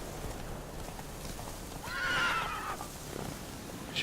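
Roach, a horse in The Witcher 3, whinnies once in a clear rising neigh over a steady patter of hooves, with a faint quiet game soundscape behind.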